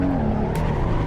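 Maserati MC20 twin-turbocharged engine in the Assetto Corsa racing game, a steady loud drone with tire squeal over it, continuous through a brief moment.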